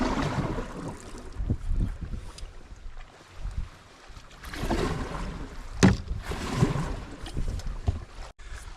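Canoe paddling on Loch Tummel in Scotland, with irregular splashes and water swirls from the paddle strokes, some wind buffeting, and a sharp knock against the hull partway through.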